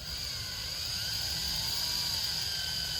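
A drill bores a hole into car body metal for a trim screw, a continuous high-pitched whine held steady and close for a few seconds.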